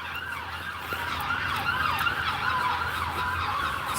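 Police car siren wailing in a city street in Hull, its rising and falling tone steady and moderately close over traffic and street noise for the whole stretch.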